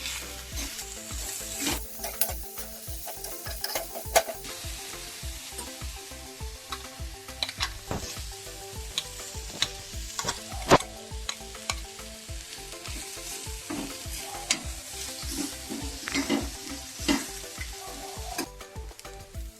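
Crushed banana flower stirring and frying in a pan for a thorran, with steady sizzling and repeated rhythmic scrapes of a spoon against the pan, close and fairly loud, with no talk.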